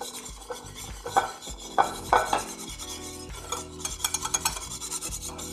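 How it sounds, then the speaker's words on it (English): A whisk scrapes and stirs through mayonnaise thinned with a splash of oil in a bowl, giving a run of rubbing, rasping strokes that quicken into short rhythmic beats, close up with no talking. "And let's whisk it to thin it out some."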